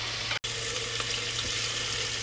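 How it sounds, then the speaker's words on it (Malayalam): Water poured into a frying pan of chicken cooking for machboos makes a continuous rushing splash and hiss that stays loud and even for about two seconds, broken by one brief cut. "വെള്ളം ഒഴിച്ചു കൊടുക്കാം"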